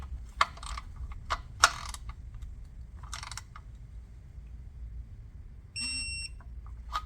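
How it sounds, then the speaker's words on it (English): Digital torque wrench beeping while tightening the oil filter on a Mercedes GLS 580, a short high electronic tone near the end, following scattered clicks and ratcheting clatter of the tool, no speech. "now I'm going to do the final step with the torque wrench."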